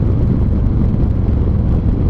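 A Harley motorcycle engine rumbles loud and deep while being ridden in second gear, a steady close-up drone with no pauses and no talking.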